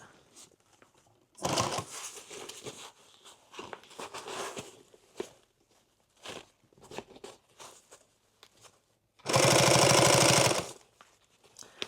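A sewing machine stitching through a heavy extra-large tool bag in two bursts, a long rattling run early on and a loud, steady, close-up run near the end, with handling noise and shuffling between them.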